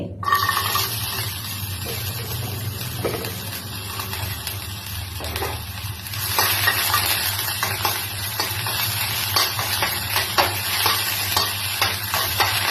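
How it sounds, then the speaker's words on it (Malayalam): Green beans frying in hot oil in a pan for wheat rava vegetable upma, a steady crackling sizzle with frequent stirring and scraping, close and continuous, growing a little busier midway. "എണ്ണ ഒഴിച്ചു കൊടുത്തിട്ട് നമുക്ക് ബീൻസ് മൂപ്പിച്ചെടുക്കാം"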